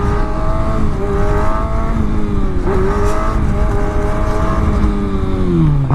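A motorcycle engine revs steadily while the bike is held up on its back wheel, a loud close drone whose pitch holds and wavers, then drops sharply near the end.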